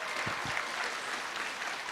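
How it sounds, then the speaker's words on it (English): An audience claps at a high school honor roll recognition ceremony, a brief steady patter of applause from a moderate-sized crowd, with no talking over it. "You may now clap"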